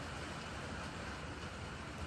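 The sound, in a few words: rain and wind outside, Danish fall weather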